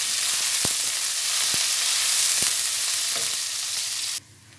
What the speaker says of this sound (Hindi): मैंने लंबा लंबा प्याज काट रखा है वो मैं इसमें डाल दे रही हूँ